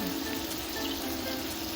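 Hot pasta cooking water is poured off as the pasta is drained, a steady rushing splash with no voices.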